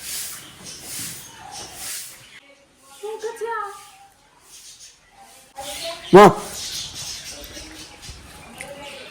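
A single brief, high-pitched dog whine rises once partway through, between stretches of people talking nearby.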